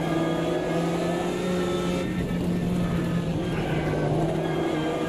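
Race car in the sim racing game Automobilista 2, the Godzilla, its engine droning loud and steady with rising pitch, a quick gear shift cutting in partway, then climbing again.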